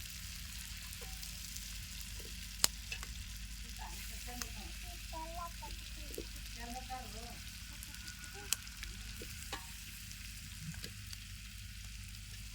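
Fish heads fry in hot oil for a fish curry, a steady, soft, crackling sizzle throughout, dotted with occasional sharp pops and utensil taps while a voice speaks quietly in the background.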